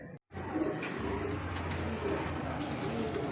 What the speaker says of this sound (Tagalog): Kalapati kong matatagal na sa akin.